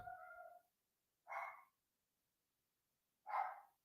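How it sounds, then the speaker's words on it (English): Three short, separate animal calls ring out against near silence, each a brief bark-like yelp spaced about a second or two apart. "Excuse my dog barking."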